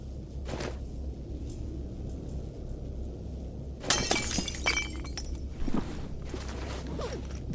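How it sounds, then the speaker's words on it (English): Glass shattering in the S.T.A.L.K.E.R. GAMMA video game, a sudden loud crash with scattered tinkling debris after a quiet ambient stretch, followed by a second smaller burst of breakage. "The glass breaking sound is a little much."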